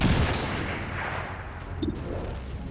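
An explosion in the video game XCOM 2 blowing up a tree: a loud booming blast at the start decaying into a rumbling tail, followed by a faint crackle, with no talk.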